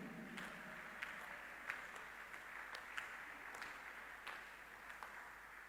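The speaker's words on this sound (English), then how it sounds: "Clap before I continue." A church congregation claps in steady, scattered applause with occasional sharper individual claps, sounding distant and faint under a constant room hum.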